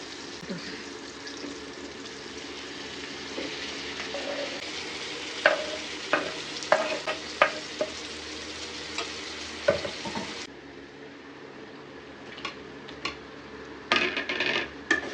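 Chopped tomatoes fry in a pan for a village-style fish pulusu. The sizzle runs continuously, and from the middle onward clustered spoon scrapes and clinks cut through it, then it drops quieter near the end with a few more stirring knocks.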